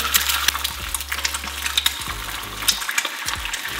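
Eggs frying in a generous amount of oil sizzle loudly and steadily while a utensil stirs and scrapes through them, close up with no talk.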